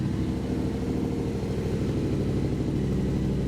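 A 2022 Yamaha R7 with a Titan GP2 full exhaust and no decibel killers idles steadily, a deep, loud, even throb close by with a slight lumpy pulse and no talking.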